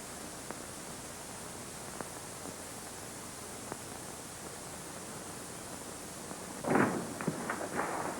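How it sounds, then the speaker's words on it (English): A quick burst of several sharp gunshot-like pops near the end, over a steady background hiss with a few faint clicks. "I heard gunfire."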